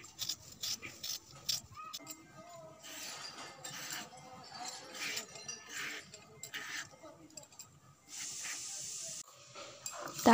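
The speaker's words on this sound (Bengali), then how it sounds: "আমি এদিকে আনাজটা কেটে নিচ্ছি" Cauliflower stalks and other vegetables being cut in a home kitchen while rice cooks nearby, giving irregular close clinks, knife taps and scraping over a steady hiss.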